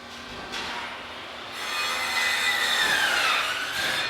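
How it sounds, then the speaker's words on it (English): An industrial press brake bends a metal cover panel in a factory, a rising grinding, scraping mechanical whine with shifting high tones that builds after a couple of seconds and holds, over a steady shop background. "The press brake will come down, it'll drive the metal to a specific setting."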